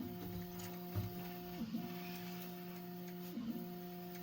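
A Prusa XL 3D printer runs steadily, its stepper motors whining in sustained tones that shift pitch as the head changes direction, over a low mechanical hum while its filament spool nears empty.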